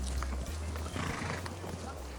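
Horses on a riding-school pony lesson walk on long reins, hooves clip-clopping with a neigh rising over steady background noise while an instructor talks over the scene.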